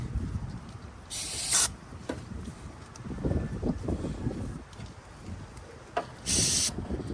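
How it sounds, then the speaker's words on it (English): Brake cleaner sprays onto the throttle body of a 1991 Ford Ranger in two short hissing bursts, one early and one near the end, close to the mic, with quieter handling clatter between them. "I always use brake cleaner, carb cleaner, you can use whatever, gasoline."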